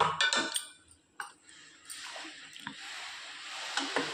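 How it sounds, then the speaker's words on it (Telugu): Soaked, washed rice, about five glasses, tipped into a pot on the stove, giving soft wet squishes and a few light clinks, fairly close, with quieter settling sounds after. "ఇప్పుడు బియ్యం వేసేద్దాం."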